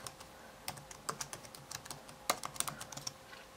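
Quick, light keystrokes tap on a computer keyboard while an email and password are entered, irregular clicks in short bursts, close but quiet.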